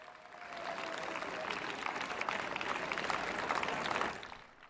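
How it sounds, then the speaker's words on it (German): A crowd at an open-society demonstration applauds a physician, a broad, steady roll of clapping that swells in and holds for several seconds before fading, heard at a moderate distance. "Großen Applaus für Dr. Med Gunther Frank."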